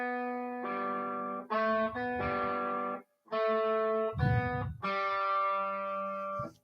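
Electric guitar plays a short melodic phrase of sustained, effects-processed notes in a few separate bursts, with brief gaps between them, loud and close with no talking.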